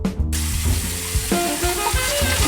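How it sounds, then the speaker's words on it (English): Water runs steadily from a kitchen tap into a sink, a loud continuous rush with faint clunks of pots underneath. "Okay, now let's turn the water off."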